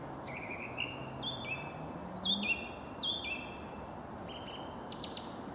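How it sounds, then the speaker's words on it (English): A song thrush sings clear, varied repeated phrases, bright and whistled, over a steady low rumble of background noise, on a January walk near Sturry. "Beautiful song thrush song."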